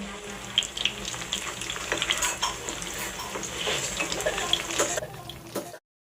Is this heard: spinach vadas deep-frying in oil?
yes